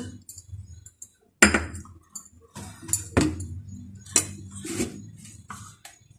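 Rice flour and cornflour being mixed with a spoon in a bowl, giving sharp clinks and scrapes against the bowl in irregular bursts, close and fairly loud with no talk.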